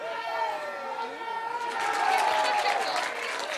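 Spectators at a rugby match between Muir College and HS Pearson shout and cheer from the sidelines, a steady, fairly distant crowd roar that swells midway, with a commentator talking over it.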